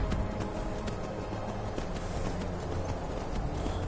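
A horse in Skyrim VR clip-clops along, its hooves landing in a quick, regular rhythm of sharp taps at moderate volume, alone without talk.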